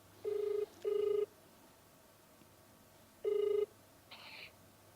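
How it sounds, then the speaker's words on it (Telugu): An outgoing phone call rings back on the line: a clear, close electronic ringing tone in short double bursts, a pause of a few seconds, then another burst followed by a brief higher chirp. "సరే ఇప్పుడు అమ్మాయికి కాల్ చేద్దాము"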